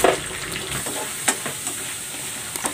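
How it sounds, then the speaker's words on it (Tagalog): A piece of sweet potato fries in hot cooking oil with a bright, steady sizzle up close, punctuated by a few quick utensil taps and scrapes. "Ipiprito ko muna itong kamote."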